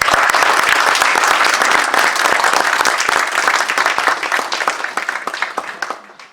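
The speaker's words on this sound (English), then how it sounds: "Let's give her a round of applause." Sustained round of applause from a conference audience at the United Nations, loud dense clapping that holds steady then gradually thins and fades toward the end.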